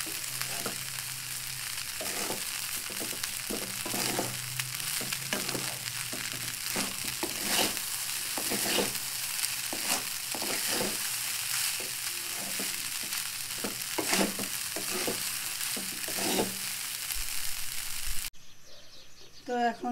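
Rice stir-fried in a pan with turmeric and chili gives a steady sizzle, broken by regular scraping strokes of a spatula roughly every second, close and clear, until it abruptly cuts off near the end.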